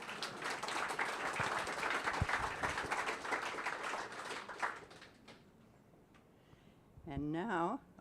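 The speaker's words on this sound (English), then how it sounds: "you all need to give yourselves a big thank you and round of applause" Applause from residents gathered at a council meeting, a dense wash of clapping filling the first several seconds, then fading to quiet before a voice speaks at the end.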